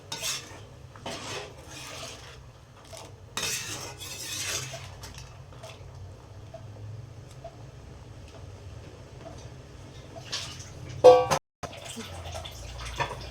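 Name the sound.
peas being stirred in a pot for kurma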